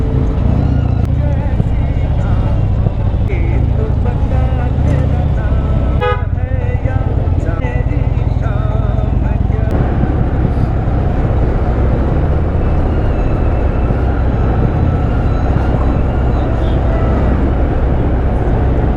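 A 320 kg Harley-Davidson Fat Bob cruiser motorcycle runs at full throttle on a narrow hill road, giving a loud, sustained, close engine roar with wind buffeting throughout and a brief dip midway.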